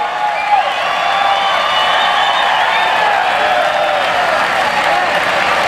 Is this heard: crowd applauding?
yes